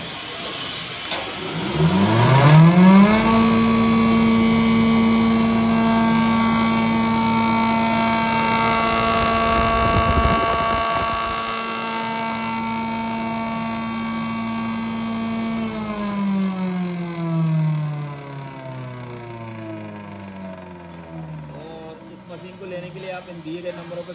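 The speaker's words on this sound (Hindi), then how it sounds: "यहाँ से इसको मटेरियल जाएगा और अंदर चेम्बर में ग्राइंड होके और ब्लोवर के माध्यम से पाइपलाइन लगते साइक्लोन पर होके माल का आउटपुट निकल जाएगा" A 4x10 multipurpose masala pulveriser machine spins up and runs, with a rising whine that settles into a loud steady drone with strong harmonics, then winds down, while someone speaks over it.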